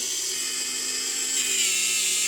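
A rechargeable electric cleaning brush from AliExpress runs with a close, high-pitched, even whir that holds steady throughout, heard alone.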